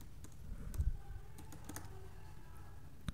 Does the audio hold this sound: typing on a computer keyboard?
yes